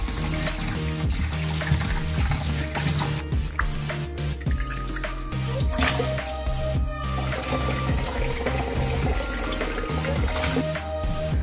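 Water runs steadily from a kitchen tap over cut beef pieces being washed, a continuous splashing flow with small clatters and drips throughout, no talking.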